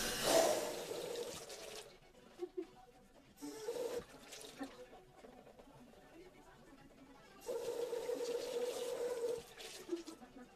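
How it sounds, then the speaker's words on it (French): Cool water runs from a tap in bursts as a washcloth rinses off an oriental-style face mask, with a short splash early, a brief one midway and a longer steady stream near the end. "Donc je vais prendre un gant de toilette et je vais l'enlever avec de l'eau fraîche."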